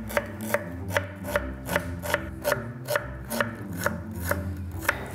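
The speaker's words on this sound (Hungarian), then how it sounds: "tehát 3 fej hagymát fogok szálasra vágni" Knife chopping onions into thin strips on a cutting board, a steady run of about a dozen crisp, evenly spaced cuts, close and clear with no talk.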